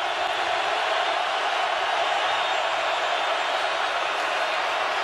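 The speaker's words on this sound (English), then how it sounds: "Crowd is roaring." Steady, dense roar of a large football stadium crowd at an NFL playoff game in Seattle, a continuous broadband wash of voices holding at the same level throughout with no distinct individual shouts.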